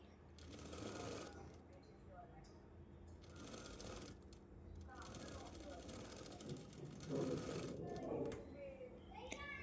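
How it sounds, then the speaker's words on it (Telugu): A sewing machine runs in short bursts of rapid, close mechanical stitching while it double-stitches piping onto a blouse from the shoulder seam, with someone speaking quietly between the runs. "డబల్ స్టిచ్ చేసుకోవాలి ఇంకొక కుట్టు వేస్తున్నాను"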